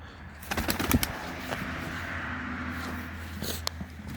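Male akbaş pigeon in a coop, with soft bird movement and a brief flutter or call among low steady background hum, close and fairly quiet.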